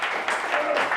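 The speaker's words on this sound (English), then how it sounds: "I just want you to also just give a round of applause to Eli and Jeremy." Audience applause at a live event, a brief burst of dense clapping that holds steady and fairly loud throughout.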